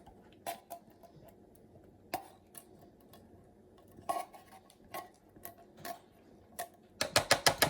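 A spoon scrapes a 10.5 ounce can of cream of mushroom soup into a queso mix with scattered metallic clinks and scrapes, ending in a quick burst of rapid taps.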